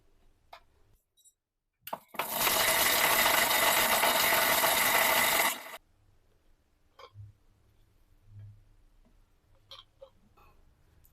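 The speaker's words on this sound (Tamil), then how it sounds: "இதெல்லாம் சேர்த்து ஃபஸ்ட்டு தண்ணி விடாமல் கொரகொரப்பாக அரைச்சிக்கலாம்." A mixer grinder coarsely grinds coconut chutney ingredients with no water in one loud, steady whirring burst of about three and a half seconds, followed by quiet with faint clicks and taps.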